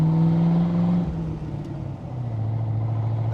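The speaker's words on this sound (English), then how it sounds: "That engine sound is just lovely to realize." Engine of a 1975 Corvette converted from automatic to a manual stick shift, running close by with a steady low rumble that dips briefly and then settles back into a smooth idle, no talk over it.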